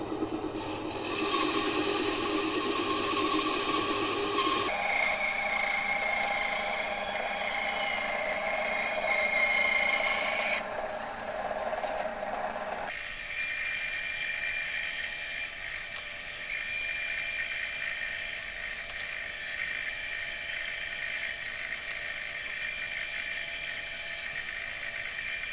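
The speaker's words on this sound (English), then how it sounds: "So we're using the bandsaw." A bandsaw cuts circles out of wood for garage hanging storage racks, its steady high whine and rasping blade noise running loud and continuous, shifting in tone between cuts with brief changes in pitch as the blade follows the curve.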